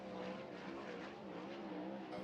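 Donny Schatz's number 15 CarQuest Ford Performance winged sprint car running down the back straightaway at Arizona Speedway in the Wild Wing Shootout, a steady loud engine roar with tire noise throughout.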